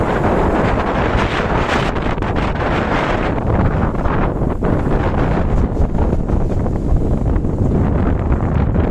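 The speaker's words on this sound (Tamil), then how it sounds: "முதல் நாளே நல்ல காற்றை சந்திச்சுக்கிட்டு இருக்கோம்" Strong, steady wind roars and buffets the microphone throughout on a fishing boat at sea, with a constant rushing noise like open water and no voices.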